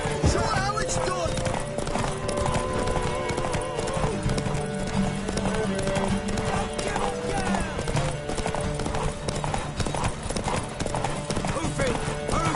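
Horse hooves gallop in a rapid, steady clip-clop during a horse race in The Witcher 3 video game, loud and continuous beneath music, with occasional neighs.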